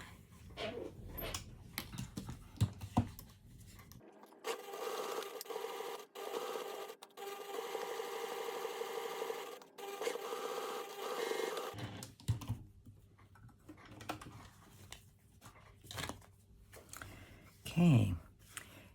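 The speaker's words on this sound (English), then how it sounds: "then you're just going to sew around the curved edge, not the straight edge" A sewing machine stitches around the curved edge of a cotton wallet, whirring steadily for several seconds between softer handling noises, with a person talking before and after the run.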